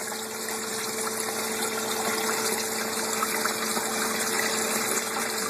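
An aquaponics water pump in a fish room runs after being unclogged, giving a steady, close mechanical hum with constant gushing water and no voices.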